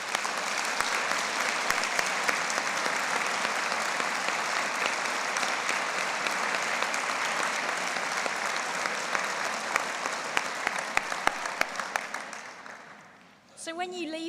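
A large graduation audience at a Manchester degree ceremony cheers and applauds in a dense, sustained wash of clapping that holds steady for most of the stretch, then tapers off and briefly quiets near the end.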